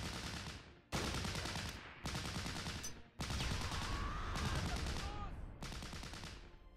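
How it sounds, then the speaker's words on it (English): In the World War II strategy game Close Combat, set at West Arnhem, loud artillery blasts and rattling gunfire crash in rapid repeated bursts, dense and continuous with sharp onsets, over distant battle noise. "they got the artillery on top of them now."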